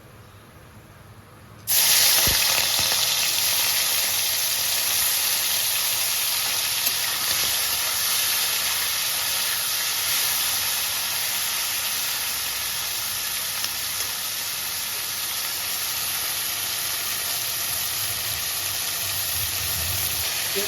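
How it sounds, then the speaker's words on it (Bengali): Shrimp dropped into hot oil in a Bengali kitchen pan, bursting into a loud, steady sizzle after a brief quiet start and hissing on unbroken to the end with no voices. "এবার আমি চিংড়ি মাছটা ভেজে নেবো"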